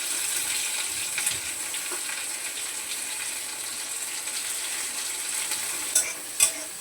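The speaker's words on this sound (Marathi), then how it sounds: "बघा एकदम थोडंसं तेल होतं त्यातच कांदा भाजून घेतला" Onion and crumbled coconut roasting in a little oil, a soft continuous sizzle with light scraping stirs throughout and a couple of sharper clinks near the end, close and without speech.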